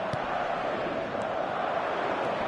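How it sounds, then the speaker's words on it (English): A stadium crowd in a PS4 football match roars as a steady, dense wash of massed voices, continuous and even in level throughout. "The crowd are calling for this to be put to bed."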